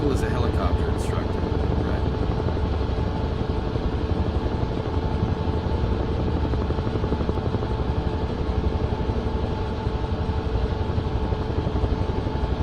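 Helicopter rotor in the video game Flight Simulator 2024, a loud, rapid and continuous chopping beat with engine drone underneath, holding steady and close from start to finish.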